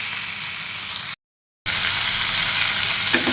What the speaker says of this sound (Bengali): মাছ দিয়ে দিলাম, মাছ ভাজি করে নেব